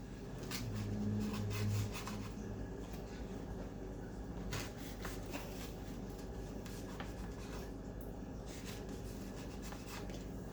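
A toasted pizza quesadilla is sliced on a Blackstone E Series 22-inch electric griddle. Close, rough scraping and rubbing cuts repeat with crunchy taps over a constant low hum.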